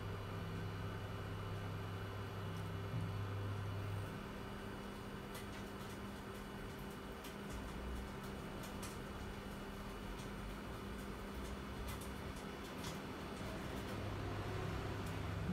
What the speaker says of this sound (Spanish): El microondas está funcionando.